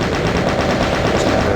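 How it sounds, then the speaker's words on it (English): Chain gun firing in the 1993 Doom video game, a steady rapid stream of loud overlapping shots sustained for the whole moment with no talking. "Probably a better idea to use the chain gun here"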